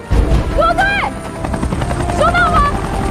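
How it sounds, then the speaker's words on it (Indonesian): A helicopter thrums steadily in an action film scene, its loud rotor drone running throughout while brief tonal sweeps and what sounds like voices rise over it. "Ketika satu helikopter lainnya akhirnya tak sengaja menemukan rombongan Chris lewat"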